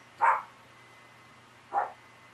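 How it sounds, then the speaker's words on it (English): A small dog barks twice, about a second and a half apart, from a patio some distance away. Each bark is short and moderately loud over a faint low hum. "And there's my little dog barking."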